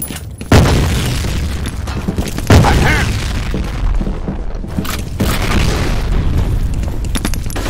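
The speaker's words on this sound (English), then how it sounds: "Grenade out!" A loud grenade blast rumbles through F.E.A.R. combat, deep booming explosions and gunfire filling the scene continuously, with sharp impacts near the start and again a couple of seconds later over game voices.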